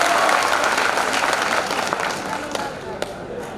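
An audience applauds loudly at an event with a health minister in Bihar, steady dense clapping that tapers slightly toward the end with a few sharper claps standing out.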